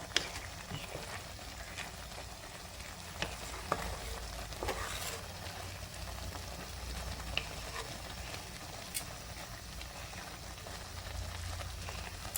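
Sweet vermicelli with roasted nuts and khoya stirred in a pan, a steady soft sizzle with scattered scraping clicks of the spoon, close and moderately quiet throughout.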